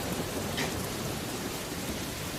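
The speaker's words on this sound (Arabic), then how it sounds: "وهلا عم نسمع صوت الرعد" Steady, dense rain pours down in a continuous hiss, heard from a balcony during a thunderstorm, with no distinct thunder clap standing out in this short stretch.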